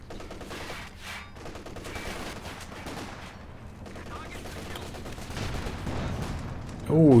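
Machine-gun fire from light machine gun squads in a Company of Heroes 2 match, a dense, loud rattle of bursts running steadily throughout, with a sharper burst at the very end.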